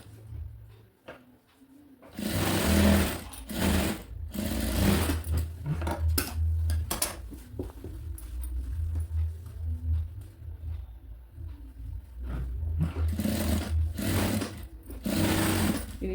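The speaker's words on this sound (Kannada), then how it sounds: "ಇಲ್ಲಿ ಒಂದು ಹೊಲಿಗೆ ಹಾಕ್ಕೊಂಬಿಡೋಣ ಫಸ್ಟಿಗೆ." A sewing machine stitching a baby girl's school uniform runs in close, loud bursts of rapid mechanical chatter, separated by short pauses and quieter handling sounds, with no talking.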